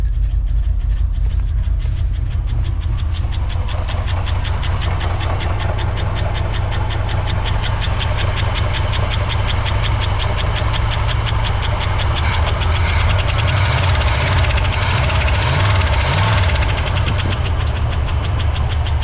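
A 1964 Oldsmobile 98 engine runs steadily and loudly up close for the whole stretch, a knocking, rumbling idle with the revs swelling and rising in bursts toward the end.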